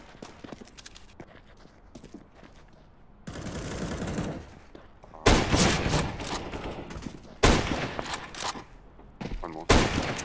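Rifle gunfire in a video game rings out in loud, dense bursts of rapid shots, with short quieter gaps between volleys and a few players talking.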